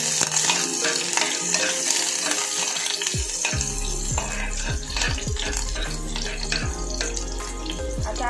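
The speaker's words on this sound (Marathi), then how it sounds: "कुकरमध्ये मी तेल गरम करायला ठेवलेलं आता त्याच्यामध्ये सर्वात पहिला आपण कांदा टाकून ठेवूया" Onion drops into hot oil in a pressure cooker for a Malvani-style white pea curry, setting off a continuous close sizzle and crackle that holds steady throughout.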